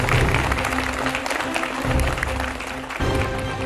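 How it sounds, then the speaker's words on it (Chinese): Studio audience applause at a Chinese crosstalk comedy competition show, a dense steady wash of clapping that lasts the full few seconds, with faint tonal music underneath. "让我们掌声有请刚才首先出场表演的两位相声新人。"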